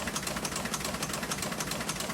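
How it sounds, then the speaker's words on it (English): A historic newspaper printing press at the Vineyard Gazette offices in Edgartown runs at speed, its rapid, even mechanical clatter repeating steadily and loudly throughout. "That's the sound of the historic press in the Vineyard Gazette offices in Edgartown, printing the paper."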